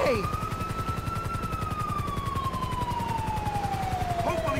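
An ambulance siren wails steadily in the video game GTA 5, with a loud, sweeping tone held close by over a rapid pulsing emergency-vehicle siren, and no voices.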